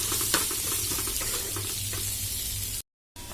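Onion, garlic and chili sizzle and fry in a hot pan for a fish dish, a steady close crackling hiss with faint stirring scrapes, cut off abruptly near the end.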